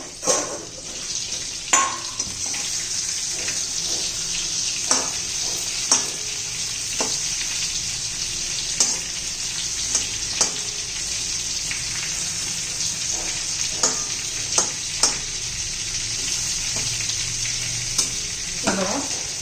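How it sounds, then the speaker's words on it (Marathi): Stuffed brinjals (bharli vangi) fry in a pan with a steady hiss, broken by repeated scraping stirs and sharp clicks of the spoon against the pan. "पुन्हा एकदा आपण असं हलवून घेऊया"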